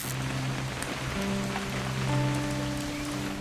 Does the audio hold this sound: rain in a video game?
yes